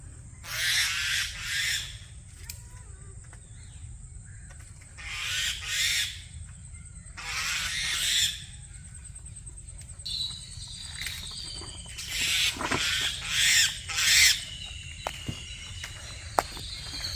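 Harsh squawking calls come from a sparrow fighting with a squirrel in a garden, in repeated bursts of a second or so, with scuffling and rustling between them over a low steady background hum.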